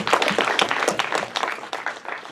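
A festival audience at a Fantasia Festival 2014 screening claps for itself, a smattering of distinct, uneven handclaps from a modest crowd, fairly close and tapering off.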